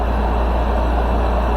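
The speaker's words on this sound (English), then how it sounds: "My window AC unit is really loud." A loud window air conditioning unit running, a steady dense roar and hum that fills the room without change, close by with no voices.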